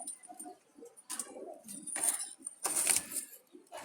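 Wild Jalali pigeons, two pairs including small red-eyed hens, give soft low coos in short repeated bouts, close and fairly quiet, with some faint hiss and rustle between calls.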